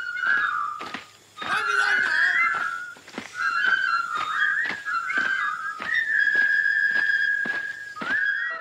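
A person whistles the Colonel Bogey march in clear, bright phrases with short breaths between notes, loud and close with no talk.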